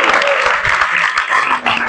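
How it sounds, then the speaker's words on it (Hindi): An audience at a Krishna reading program in Mangalore during the Dussehra festival claps for about two seconds. The sound is a loud, dense spread of many hands, briefly dipping near the end. "हरि बोल, ताली बजाओ सबको"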